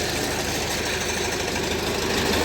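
A YuMZ-6L tractor engine, freshly rebuilt with a replacement crankshaft, idles steadily during running-in, a close, continuous mechanical chug with a faint knocking rhythm and vibration throughout.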